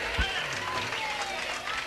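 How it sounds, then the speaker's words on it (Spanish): Applause from a live crowd at a salsa show in Casa Boricua, New York, honoring the band, a continuous moderate wash of clapping with crowd noise and some voices mixed in. "Un aplauso para la orquesta de la gente."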